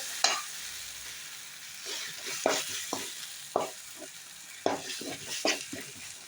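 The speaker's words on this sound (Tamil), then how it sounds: "இப்போ நம்ம இந்த அளவுக்கு இஞ்சி பூண்டு பேஸ்ட்டு சேர்த்துக்கலாங்க. நல்லா எண்ணெயிலே வதக்கிங்க." Ginger garlic paste sautéing in hot oil for a chicken gravy, a steady close sizzle broken by several sharp scrapes and stirs of a spoon against the pan.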